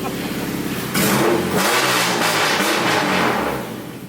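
A Honda Acura Integra fitted with a Vibrant exhaust is revved hard up to its rev limiter, giving a loud, rasping, sustained howl that holds steady, then drops back near the end.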